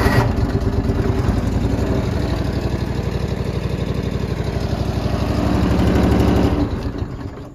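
A fuel-injected John Deere 455 lawn tractor engine runs at a loud, steady idle close by, its even chugging rhythm continuing throughout before easing off near the end.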